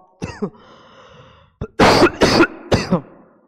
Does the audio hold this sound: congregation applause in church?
no